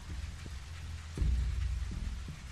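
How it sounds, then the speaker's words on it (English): Steady rain falls in The Walking Dead: 400 Days video game, a low continuous wash with a deeper rumble swelling midway, no voices over it. "Oh, the rain. Won't let up today."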